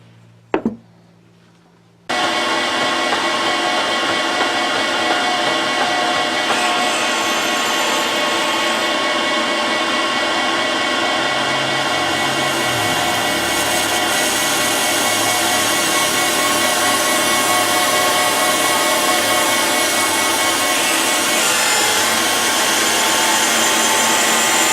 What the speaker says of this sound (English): So we'll get the surface grinder fired up and we'll see how we get on.